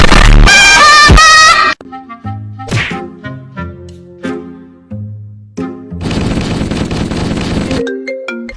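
A phone ringtone for an incoming call plays loudly as a bright electronic melody of separate plucked-sounding notes, with a busier, denser burst near the start and again toward the end.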